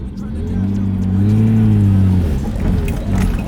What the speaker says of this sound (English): I kind of forgot how much this car kind of sucks in first gear